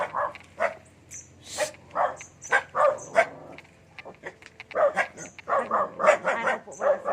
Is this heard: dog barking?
yes